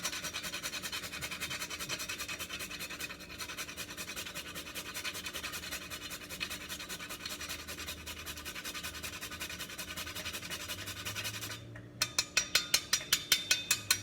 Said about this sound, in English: My grater that I love, and the nutmeg, just gonna shave a little bit in there.